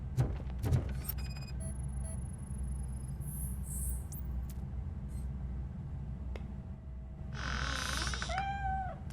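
A cat meows in the RoboCop: Rogue City video game, a few faint mewing calls over a steady low ambient hum with insect-like chirps, the clearest cry arriving near the end.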